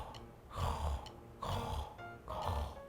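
A brachycephalic dog with breathing difficulty makes loud, snoring-like laboured breaths, three rough grunting inhalations in a steady rhythm, close and harsh.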